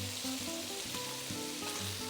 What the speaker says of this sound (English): Now we're gonna add the smoked pork loin